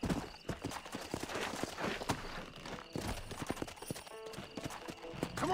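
Horse hooves clip-clopping in the video game Red Dead Redemption, a steady rhythmic run of close hoofbeats with small knocks and scuffs, moderately loud throughout.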